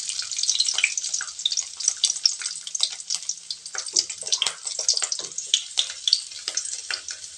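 Peeled garlic cloves fry in hot oil in a pan, a continuous close sizzle with crackling spatters and bursts and no speech.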